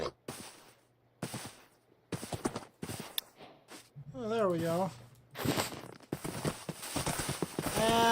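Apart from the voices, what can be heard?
horse hooves clip-clopping in Minecraft video game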